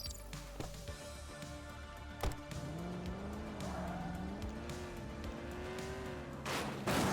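Police car from the video game The Precinct driving steadily, with a continuous engine drone that rises and falls in pitch, a few sharp impacts early on and a burst of noise near the end.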